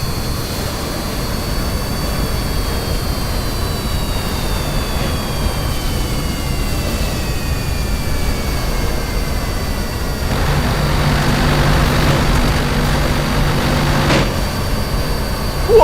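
Jet aircraft engines roaring in a combat flight video game, a loud sustained whine with a slowly falling pitch as a craft passes, then a brief harsher burst of engine noise near the end.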